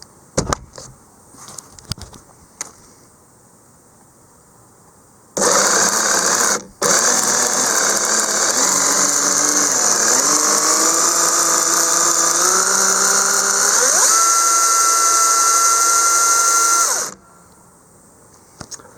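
An EGO CS1800 or Dewalt 40V cordless chainsaw whirs up loud and close, holds a steady high whine for about twelve seconds with a brief dip near the start and a pitch shift late, then cuts off.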